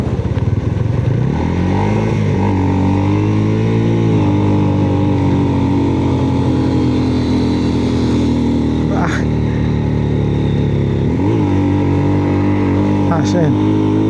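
A Taro GP 250R motorcycle climbs a hill in first gear, its engine droning loud and close at steady low revs with a few shifts in pitch, and a rider talks over it.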